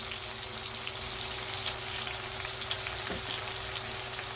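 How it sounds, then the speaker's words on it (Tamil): Garlic and asafoetida frying in oil for a spicy okra tamarind curry give a steady, moderate sizzle with a low background hum, close and unbroken, with no talk. "பூண்டு நல்லா வேகணும். இந்த ஸ்டேஜில் கொஞ்சம் பெருங்காயம் சேர்த்துக்குவோம்."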